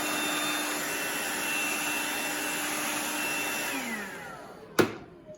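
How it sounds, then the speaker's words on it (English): A vacuum cleaner drones steadily as it cleans the HEPA and carbon filters of an air purifier, a loud continuous whine that winds down near the end, followed by a sharp knock as it shuts off. "you clean it by using the vacuum"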